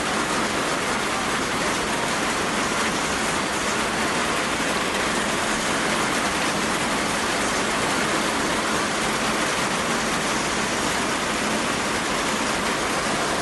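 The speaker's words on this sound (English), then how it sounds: "Wow, a lot of rain." Heavy rain pouring down in a dense, unbroken hiss that stays loud and even throughout, with no voices over it.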